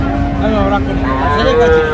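Cattle moo repeatedly at a busy village livestock market in Raniganj, Friesian and crossbred bull calves among them, with long drawn-out calls over steady crowd murmur and distant voices.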